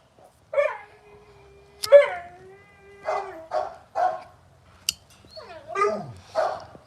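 Playing bandogs trade scattered yelps, whines and short barks close by, with a long low growl running under the first calls and sharp clicks between outbursts.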